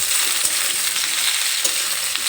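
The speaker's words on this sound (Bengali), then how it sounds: "এই কাঁকরোলগুলো একটু ভেজে নেব। কাঁকরোল দিয়ে এখানে একটু নেড়ে চেড়ে নেব।" Spiny gourd (kakrol) pieces fry in hot oil with a bright, steady sizzle, while scraping stir strokes and small clatters break through now and then; close up and no one speaks.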